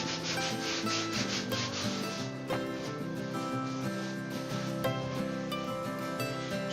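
A cloth wipes cleaning solution into a mouldy leather sofa, making steady close rubbing and scrubbing strokes that run continuously over a droning background bed.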